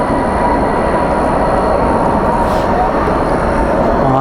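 An airliner landing at night at Dallas Fort Worth airport with spoilers up and thrust reversers deployed, a loud, continuous broadband roar heard close and unbroken.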